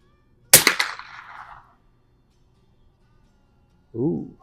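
A single sharp rifle shot from an 1896 Schmidt Rubin fitted with iron sights cracks loudly nearby and trails off in a brief echo, followed by silence and then a short voice.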